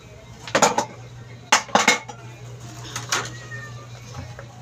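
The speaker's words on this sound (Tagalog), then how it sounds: "Hugas pinggan, tapos maghugas, laba, habang may tubig pa." Dishwashing at home, with plates and cutlery clinking and clattering in three short close bursts, separated by quieter gaps over a steady low hum.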